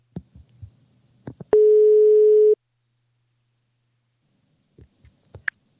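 A telephone line sounds a single steady ring tone lasting about a second, clear and close, framed by faint clicks and handling noise before and after.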